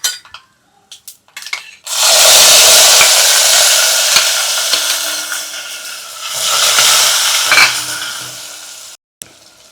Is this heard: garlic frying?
yes